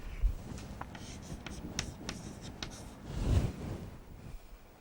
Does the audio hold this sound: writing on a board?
yes